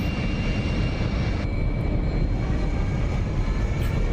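A simulated F-22A Raptor fighter jet climbs out after takeoff in a flight simulator game, giving a constant, dense engine roar with a thin high whine running over it.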